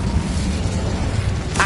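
Incendio fire spell cast in the Hogwarts Legacy video game on PS5, a loud rumbling roar of flame that holds steady, with a brief brighter flare at the end.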